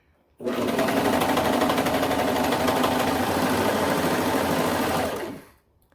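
A sewing machine stitching a curve in fabric, starting abruptly and then humming in one steady, loud, continuous run of about five seconds before winding down.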